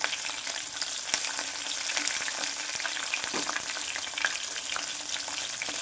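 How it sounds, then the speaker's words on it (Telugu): Cut green chillies and dried red chillies fry in hot oil in a pan for a bendakaya charu, giving a steady, close sizzle with occasional stirring clinks and no voices. "ఒక రెండు మూడు పచ్చిమిర్చి కట్ చేసుకొని వేసుకోవాలి అదేవిధంగా ఎండుమిర్చి కూడా వేసుకోవాలి ఒక రెండు మూడు కట్ చేసుకొని వీటిని ఫ్రై చేసుకోవాలి"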